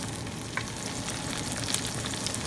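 Ginger garlic paste and tomatoes fry on high flame with a steady, fairly loud sizzle, broken by occasional faint stirring ticks. No one speaks.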